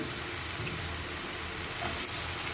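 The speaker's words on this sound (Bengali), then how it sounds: "পেঁয়াজ আর রসুন দিয়ে দিচ্ছি" Onion and garlic sizzle in hot oil in a home kitchen pan, a dense steady frying hiss that runs unbroken and fairly loud throughout, with no talking.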